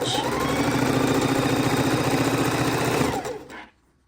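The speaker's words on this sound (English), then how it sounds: "And I'm going to do my 1/4 inch stitch." A sewing machine runs a quarter-inch seam along quilt border strips, a loud steady motorized whir with rapid needle chatter lasting about three seconds before slowing and stopping, then quiet.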